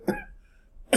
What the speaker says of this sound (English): If I could quit coughing.